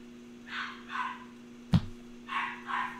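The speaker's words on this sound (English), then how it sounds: "It's just because she's little and, little puppies bark." A puppy confined in a crate yaps in short high barks, two, then a sharp knock, then two more, faint and somewhat distant over a steady electrical hum.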